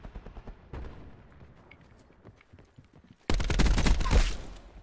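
Scattered distant shots in a video game crackle sparsely, then a loud, sustained burst of rapid gunfire erupts close by.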